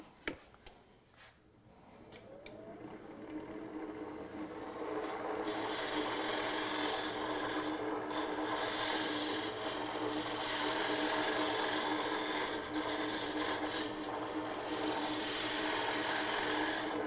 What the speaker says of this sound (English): We have a little tiny round nose scraper here.